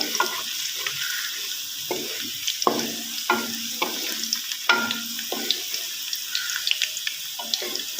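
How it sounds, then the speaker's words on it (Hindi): Onions frying in a pan, a continuous close sizzle broken by repeated scraping strokes of a spoon stirring them, with no talk. "फटाफट प्याज फ्राई करेंगे।"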